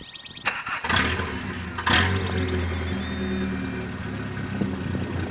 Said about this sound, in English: He's actually not running any type of an exhaust system on it right now.